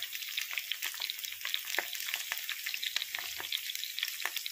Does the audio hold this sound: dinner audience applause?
no